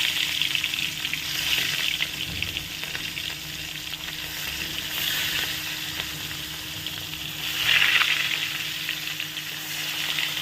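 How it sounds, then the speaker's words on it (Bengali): Katla fish sizzles steadily in hot oil in a wok, a dense, close, continuous frying crackle with gentle swells and no voices. "মাছগুলো ভাজা হয়ে নিই"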